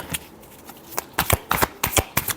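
Tarot cards riffle and slap together in a quick series of close, crisp shuffles, several sharp bursts over a couple of seconds with no voice over them.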